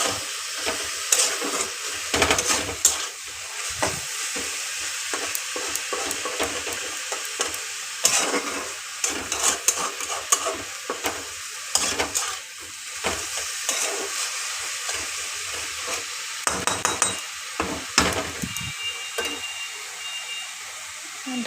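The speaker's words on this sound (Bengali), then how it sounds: "সামান্যই হলুদ শাকে দিতে হয়। ভালো করে নেড়ে চেড়ে আবার ঢেকে দেব।" Leafy greens with turmeric are stirred in a cooking pan, giving a steady hiss of frying broken by repeated scraping stir strokes, with a voice talking over it at times.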